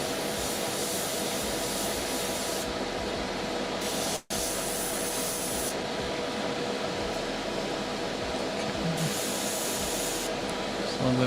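An airbrush hisses continuously while spraying highlight paint on a miniature, a steady close airy spray with one brief break around the middle.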